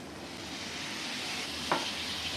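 Tondli (ivy gourd) stir-frying in a pan with tomato, a soft steady sizzle close by with one brief scrape of a spatula partway through.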